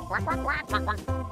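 A cartoonish duck quacks repeatedly in quick, bright bursts, loud and close, with a brief gap partway through.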